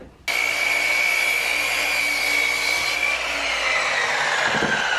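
A circular saw rips through wood while cutting a French cleat in a workshop, starting abruptly and holding a loud, steady high whine with a slight pitch drop near the end.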